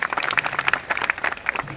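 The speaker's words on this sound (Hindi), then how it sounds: "जोरदार तालियां।" A brief burst of applause at a bar association seminar, moderately loud clapping from a group with a quick, uneven rhythm.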